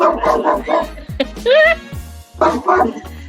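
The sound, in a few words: dog barking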